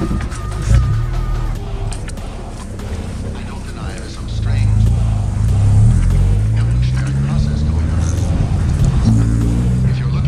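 A Mazda fitted with a new P5 exhaust drives along, its engine droning low and steady, then rising and growing louder after a few seconds, heard from inside the car; a voice talks briefly early on.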